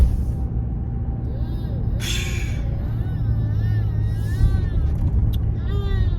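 Interior of a car being driven fast on a road, with a steady low engine and road rumble throughout and a brief burst of noise near the start; someone is speaking inside the car.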